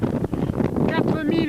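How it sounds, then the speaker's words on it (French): Strong wind buffets the microphone at the 4,807 m summit of Mont Blanc, a loud, continuous rumbling gust noise running under someone speaking closely into the mic. "Mais il y a du vent, je suis obligé de parler comme ça, près du micro."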